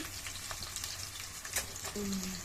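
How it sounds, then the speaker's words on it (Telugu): Onions frying in oil in a Telangana-style chicken dish, giving a steady crackling sizzle with a few brief clatters, and a thin tonal whine rising near the end. "ఉల్లిపాయలు వేగుతున్నాయి"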